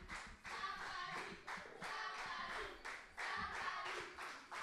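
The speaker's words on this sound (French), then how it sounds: "On applaudit très fort pour notre camarade" A school festival audience claps for a student in rhythmic waves of hand claps that swell and dip in unison, moderately distant and fairly quiet.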